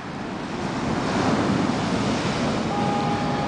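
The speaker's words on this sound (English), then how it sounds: "Thought I'd come down to the ocean," Ocean waves break steadily on the shore with strong wind buffeting the microphone, a continuous loud roar with no voices.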